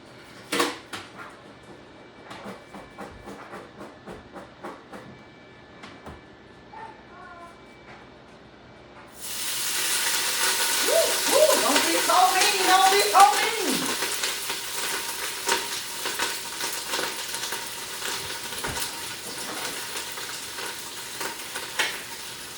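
Quiet kitchen clatter, then a sudden loud sizzle as cabbage greens hit hot grease, settling into steady crackling frying that continues to the end.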